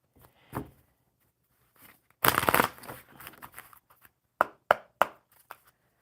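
Playing cards are shuffled by hand at a casual card-reading table, a dense riffling burst followed by several sharp taps and slaps of the deck being squared and handled, close and otherwise quiet.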